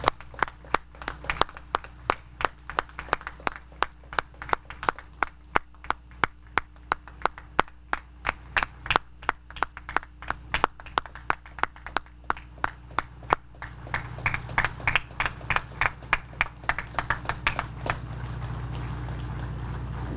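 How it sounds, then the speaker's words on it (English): Audience applause at a Delaware National Guard anniversary ceremony: close, sharp, rhythmic clapping in a steady beat for most of the stretch, then swelling into denser, fuller applause toward the end. "can we just one more time honor these amazing heroes with a resounding round of applause"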